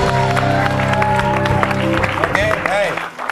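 A studio audience claps and cheers at a televised comedy show, dense applause running under a host's voice, with toned sound effects or music layered on top.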